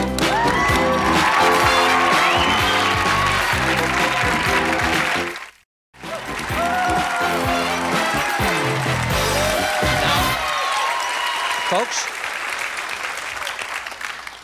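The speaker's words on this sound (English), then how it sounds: "back with the music, back with the applause." A studio audience applauds with dense, sustained clapping and some cheering under music, cuts out briefly, then resumes before thinning out as someone speaks.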